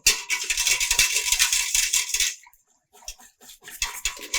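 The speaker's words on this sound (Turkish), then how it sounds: "Ocağın altını açmadan önce topaklanmaması için iyice çırpacağım" A whisk beats a mandarin pudding mixture of milk and sugar in a pot, giving a fast, close metallic rattle that pauses briefly, then resumes more lightly.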